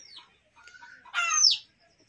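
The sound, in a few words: chickens clucking in a poultry coop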